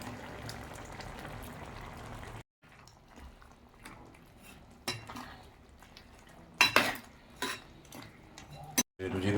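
Ground spice paste being stirred into curry in a pot, with spoon clatter and scraping against the vessel, occasional loud knocks, brief gaps of silence and a voice talking intermittently.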